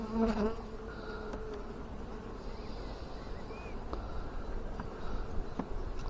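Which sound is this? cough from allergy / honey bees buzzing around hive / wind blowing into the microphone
honey bees buzzing around hive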